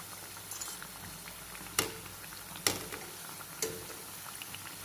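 Channa dal masala vadai fry in hot oil with a continuous soft sizzle and bubbling, broken by a few sharp crackling pops, close and with no one speaking.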